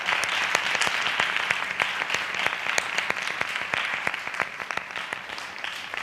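A congregation claps continuously in worship, a dense, steady wash of hand claps with no pauses, loud and close throughout.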